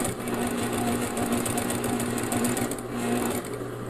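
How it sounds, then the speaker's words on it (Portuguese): A sewing machine stitching steadily around the edge of a fabric trivet, a fast, even mechanical whirring and rapid needle clatter, close and continuous with no talk. "E agora é só ir costurando aqui toda a volta."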